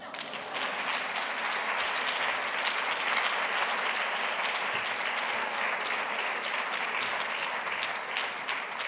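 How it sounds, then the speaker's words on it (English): An audience applauds steadily and fairly loudly for the whole span after a literary translation reading, a dense wash of clapping hands with no voices over it. "I think this wonderful group of readers needs another round of applause."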